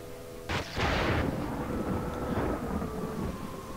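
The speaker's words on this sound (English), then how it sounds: "Thunderclap!" The Thunderclap ghost power in the video game Ghost Master sets off a sudden loud thunder crack that breaks into a broad, sustained rumble. The rumble fades slowly over a few seconds and no one speaks.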